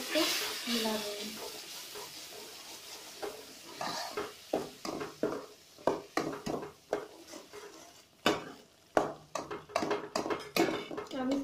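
Matar paneer masala with red chilli powder is stirred in a pan, giving repeated scraping and clinking spoon strokes in an uneven rhythm, close and fairly loud, with a faint sizzle underneath and a voice speaking at the start.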